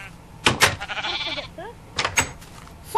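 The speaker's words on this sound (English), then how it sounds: "that's such a cute little baby sheep" Sheep bleats from the video game Minecraft: several short, bright bleats near 0.5, 2.0 and 2.2 seconds, with softer game sounds between them.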